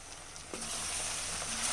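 Chicken perattu frying in a pan sizzles steadily and close up while being stirred, with a soft scrape of the spoon partway through.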